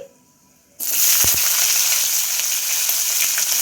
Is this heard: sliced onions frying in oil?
yes